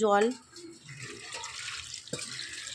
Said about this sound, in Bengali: জলটা দেওয়া হয়ে গেছে